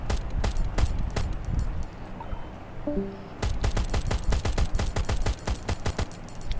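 Rapid gunfire from the survival shooter game Last Day Rules Survival, heard as bursts of sharp repeated shots. A dense volley comes first, then a short lull with a few tones, then another sustained barrage.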